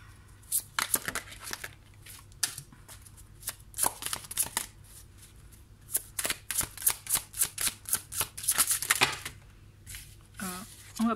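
Oracle cards are shuffled for a reading in repeated quick riffles and papery flutters close to the microphone, with a brief voice near the end.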